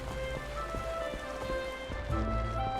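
Heavy rain falls in the Final Fantasy XIV video game, a steady soft patter behind a sustained musical drone, with no talking.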